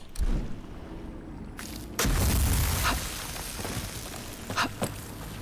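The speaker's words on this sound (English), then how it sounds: "this is an ice bomb situation" Ice bombs thrown in the fantasy game Avowed, exploding with a sudden heavy boom and shattering crackle, followed by a few sharper pops and settling debris over low game ambience.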